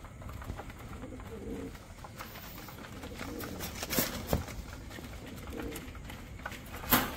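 Pigeons coo softly in a loft while a hen pigeon is kept apart from her former mate, low throaty calls repeating at close range amid rustling and a few sharp knocks.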